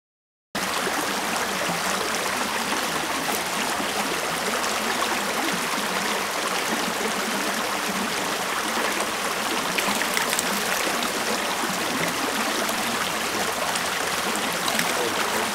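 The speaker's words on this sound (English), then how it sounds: "Pretty small creek" A small brook trout creek flows steadily, a continuous broad rushing and babbling of water close by with no talking.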